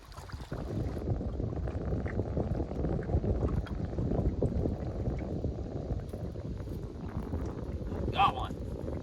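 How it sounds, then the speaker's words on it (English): Strong wind blows across a lake during a fishing and camping trip, a loud, constant low roar and buffeting against the microphone, with a voice briefly audible under the gusts. "This wind is killing me."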